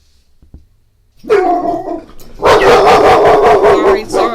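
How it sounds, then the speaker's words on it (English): Several pet dogs bark in a living room, starting with a couple of faint knocks and then a loud, close burst of rapid overlapping barks and yips that continues to the end. "I have dogs. They're gonna bark."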